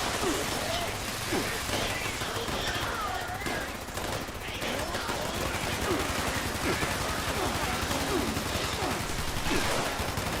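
Gunfire in the video game Fallout 76, a dense continuous rattle of rapid shots lasting the full ten seconds at a steady loud level.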